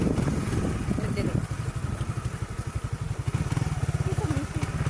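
A motorcycle engine while riding, its rapid, regular firing pulses throbbing low and close under the rider's talk and laughter for about five seconds.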